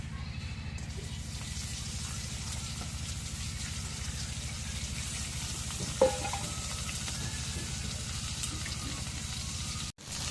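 Chopped green chili and onion frying in hot oil in a home kitchen, a steady, fairly quiet sizzle that runs throughout, with a small clink midway and a brief drop near the end.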